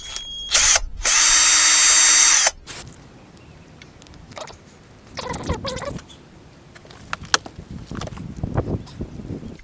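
Power drill driving carburetor screws on a Yamaha Virago motorcycle, two short loud whirring bursts up front, the second longer and steady, then quieter clicks and handling noises of the screws and parts.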